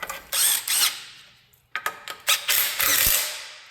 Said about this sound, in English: These cordless torque wrenches are amazing.